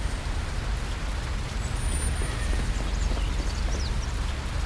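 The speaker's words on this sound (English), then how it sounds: "it's raining" Steady rain hiss in Fernbus Simulator, a coach-driving video game, a constant broadband wash with a low rumble beneath and faint tonal chirps, no voices.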